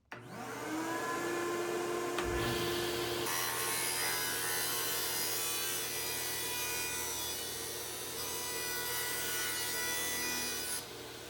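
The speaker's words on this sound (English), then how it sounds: "This saw just cut through 1 3/4 inches of hardwood like it was nothing." A table saw spins up with a rising whine, then cuts through thick hardwood, giving a loud, sustained rasping roar that holds steady for several seconds before easing slightly near the end.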